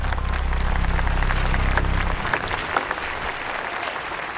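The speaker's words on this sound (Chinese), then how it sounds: "让我们用热烈的掌声欢迎远道而来的严新教授" Audience applause greets a visiting professor at a product launch ceremony for a rubber seed, steady dense clapping filling the room, with a low hum underneath that fades after about two seconds.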